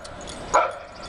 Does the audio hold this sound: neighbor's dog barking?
yes